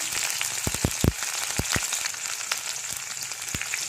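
Pepper, ginger, green chili and curry leaves fry in a pan for hotel-style ven pongal, a dense close crackle and sizzle punctuated by loud popping bursts and utensil knocks, with no voices.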